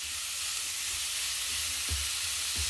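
Meat frying at 200 degrees in a Panasonic GM-600 multi-cooker, a steady close hissing sizzle throughout with a few soft low bumps, and no talking.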